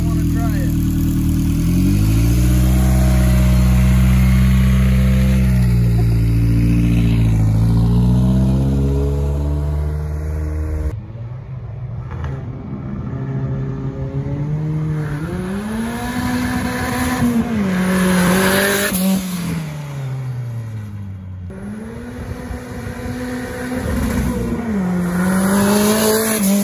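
A VW Bug body on an MR2 chassis drives hard, its mid-pitched engine revving up and down through shifts with tire squeal, loud and close, while people talk over it.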